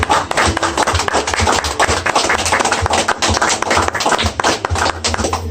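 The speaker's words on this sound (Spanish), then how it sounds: "Les invito a que le den un fuerte aplauso a nuestro Dios." Loud, sustained applause from a church congregation during a worship service, dense clapping continuing steadily throughout without pause.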